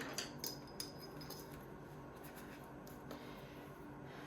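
A thin watercolour brush dabs and drags across paper while painting fine branches on a Valentine's card, giving faint, soft scratchy strokes with a few light taps at the start against quiet room hiss.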